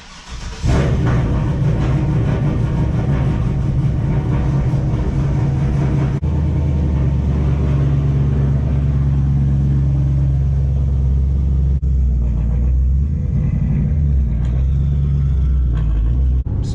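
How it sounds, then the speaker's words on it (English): Turbocharged GMC truck engine starting up and driving, a steady loud low rumble that holds throughout with gear shifts and slight shifts in pitch, close and continuous with no talk. "let's fire the turbo GMC up"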